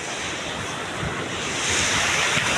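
Ocean surf off the coast of Infanta, Quezon, a continuous roar of waves mixed with gusting wind that buffets the microphone, growing louder toward the end.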